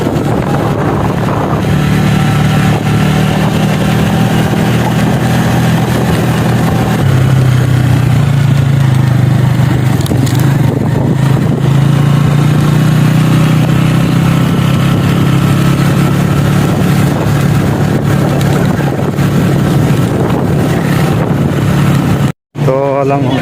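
Motorcycle engine idling and running steadily for a long stretch, a loud close rumble with wind buffeting and a brief cut near the end, with someone talking over it.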